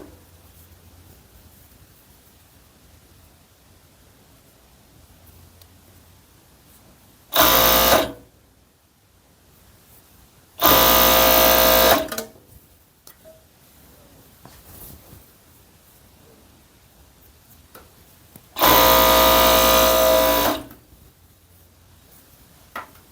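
A sewing machine stitches a knit tricot blouse's sleeve seam toward the side slit in three short, separate bursts, each a loud steady whir with quiet pauses between.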